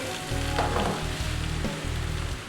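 Egg and vegetable fried rice being stirred in a hot pan, with continuous sizzling and frying under repeated scraping and tossing strokes, close and steady, with no voices.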